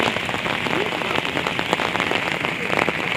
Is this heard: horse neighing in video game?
no